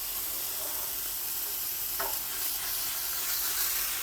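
A burger fries on a cooktop in a camper truck by a lake, giving a steady, broadband sizzle and hiss that holds at a moderate level for a few seconds, with a brief brighter crackle near the middle and nobody speaking.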